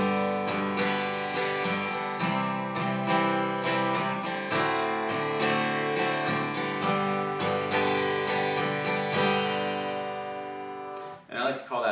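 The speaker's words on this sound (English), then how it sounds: "we want to add the chord changes to that, it'd sound like this." Steady guitar strumming pattern moving through several chord changes, close and fairly loud, ringing alone before fading out near the end.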